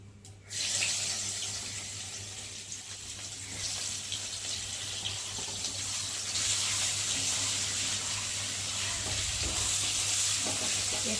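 Onions hiss and sizzle steadily in hot oil with cumin in a pan for a tengra fish curry, a continuous bright frying crackle with occasional stirring, close and without talk.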